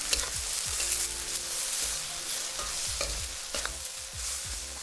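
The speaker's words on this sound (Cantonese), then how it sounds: "而家撈勻佢，炒下慢啲火嗱，炒佢" Onions and green onions stir-fry in a wok over low heat, a steady close sizzle with repeated scraping strokes of the spatula at an even rhythm.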